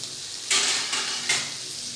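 Pawta usal, a field bean curry, cooks in a pan on a gas stove as a faint, steady sizzle, with a few soft scraping or lid-handling sounds rising briefly over it.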